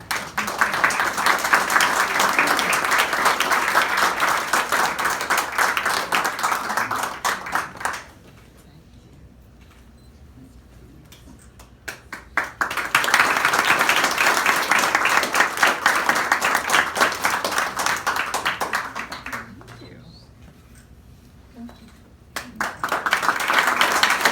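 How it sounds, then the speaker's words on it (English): Two bursts of audience applause at a reception, each lasting several seconds and separated by quieter stretches, with another round starting at the end and a voice in the pauses. "a round of applause for all our living heroes"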